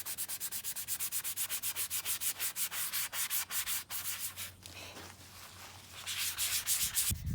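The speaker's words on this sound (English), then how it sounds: "I'm sanding down all the way to the rock." Steady rhythmic hand sanding of a rock, rapid scraping strokes repeating back and forth against its hard surface, close and continuous, briefly pausing before resuming.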